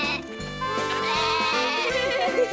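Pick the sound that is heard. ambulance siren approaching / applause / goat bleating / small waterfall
goat bleating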